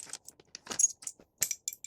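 Loose metal mount bolts for a 2002 TRX300EX being sorted by hand, giving several short, close, bright jangles in irregular bursts with quiet gaps between.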